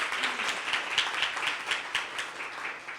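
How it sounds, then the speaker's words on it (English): Rhythmic audience applause at a Domestic Violence Awareness Month gathering, with clearly spaced claps in a steady beat at moderate volume, tapering slightly at the end. "Can we give a round of applause for all the extraordinary women we have in this room tonight?"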